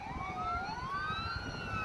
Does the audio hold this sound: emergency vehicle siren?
yes